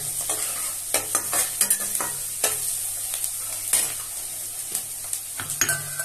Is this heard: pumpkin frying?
yes